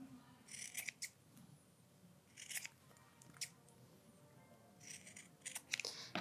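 Scissors snip the fabric corners of a freshly stitched sewn bookmark: several quick, quiet clusters of crisp cuts close by, with short pauses between them and no talking.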